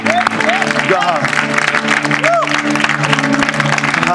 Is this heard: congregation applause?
yes